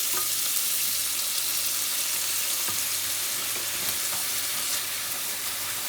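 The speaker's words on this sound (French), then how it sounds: "je vais le déglacer avec mon jus de citron" Lemon juice hitting a hot pan, a broad steady sizzle that holds at close range for several seconds with faint crackles, no talking heard.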